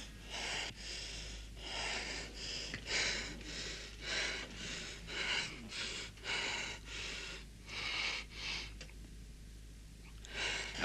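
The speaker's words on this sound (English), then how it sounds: "How's the breathing now?" A person breathes heavily after passing out in a sauna, a steady series of deep, rhythmic gasping breaths up close with snorting and sighing, and no talk.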